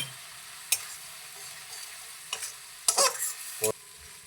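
Masala spice paste with turmeric fries in oil in a pan, a quiet sizzle broken by several sharp scraping stirs of a spatula, close and intermittent, with no talking.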